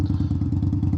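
A 2021 Indian Scout motorcycle with a Hacker Mayhem exhaust throbs with a rapid, pulsing low rumble, close and steady, picked up from inside a helmet with a small earbud microphone.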